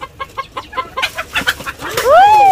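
Chickens cluck close by in quick, uneven bursts, then a drawn-out rising and falling squawk or crow-like call ends the sequence.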